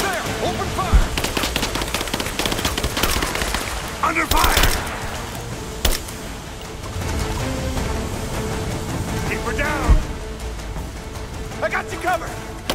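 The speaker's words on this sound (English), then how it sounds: "We're under fire! She's there! Open fire! Under fire!" Gunfire from the video game Rise of the Tomb Raider, with scattered shots and bursts of automatic fire running throughout, a few louder cracks standing out, mixed with in-game shouting voices.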